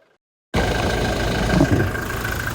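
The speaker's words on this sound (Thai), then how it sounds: "เสียงเครื่องยนต์เดินปกตินะคันนี้ไม่มีผิดปกติใดๆทั้งสิ้นนะ" Engine of a Toyota Revo pickup truck idling with the hood closed, a steady close, loud mechanical hum that starts abruptly after a brief silence and holds an even drone with a constant tonal whine.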